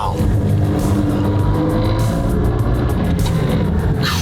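A long convoy of supercars and hypercars, about 400 cars in two lanes, rolls slowly behind the listener. Engines make a steady, dense drone with a little revving, close and loud the whole way through, and nobody speaks.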